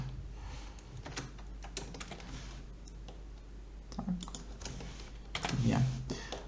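Computer keyboard typing in a Microsoft Excel session, quick irregular key clicks in short bursts, fairly faint and close, mixed with a person talking.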